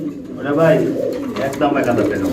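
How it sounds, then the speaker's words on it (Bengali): Black racer pigeons at a pigeon sale coo in soft, throaty bursts close by, mixed with someone talking over them. "এটা কী কবুতর এটাও রেসার ব্ল্যাক কালার রেসার"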